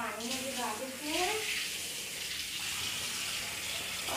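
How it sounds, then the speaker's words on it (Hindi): Tap water gushes steadily into a kadhai being filled to soak in a home kitchen, a close, continuous splashing stream with faint voices in the background. "ये जो कढ़ाई है यहाँ पर इसे पानी में भिगा देते हैं"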